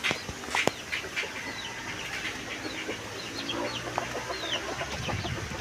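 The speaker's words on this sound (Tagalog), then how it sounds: "Lalaki na ng mga sisiw na aray." Chickens and young chicks on a Philippine farm, with continuous clucking and high peeping calls layered over outdoor background noise, fairly close and steady without speech.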